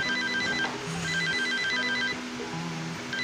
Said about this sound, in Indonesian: Kenapa? Telepon.